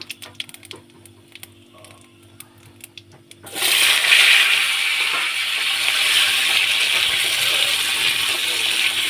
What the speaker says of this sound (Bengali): তখন এর মধ্যে আমি আলুটা দিয়ে দেবো